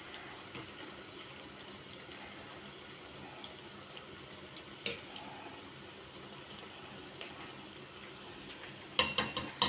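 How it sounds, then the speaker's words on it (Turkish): Köfte meatballs fry in a pan with a faint, steady sizzle, and a brief burst of utensil and pan clatter comes near the end. "Bunları eşime özel pişiriyorum şunu köfte"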